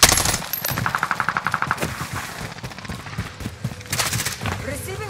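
Rapid automatic gunfire from a video game on the Caldera map, bursts of repeated shots with scattered single reports in a busy firefight, with voices talking over it.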